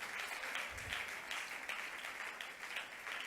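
A church congregation claps and cheers in praise of Jesus, sustained applause with rhythmic surges, moderately distant and with no talk over it.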